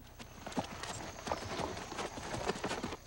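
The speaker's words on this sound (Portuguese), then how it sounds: "Doutor Aloísio monta agora uma égua da raça Campolina, também desenvolvida em Minas Gerais" A Campolina mare from Minas Gerais walks on firm ground, her hooves clip-clopping in a steady rhythm at moderate distance with faint outdoor background.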